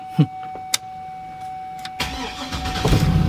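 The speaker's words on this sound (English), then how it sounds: "let's see if this thing wants to crank up" A car with a dead battery is cranked in an attempt to start it: a couple of short clicks first, then from about two seconds a rising, sustained mechanical churning that grows louder and fills the rest of the clip, with no clear catch.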